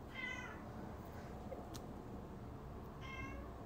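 A cat meows twice, once near the start and again near the end, fairly close but soft, with steady low background noise between the calls and no talking.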